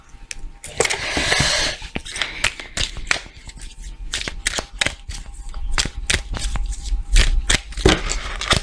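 Oracle cards are shuffled by hand close up, with a riffling burst followed by repeated quick flicks, slaps and soft card taps in an uneven rhythm.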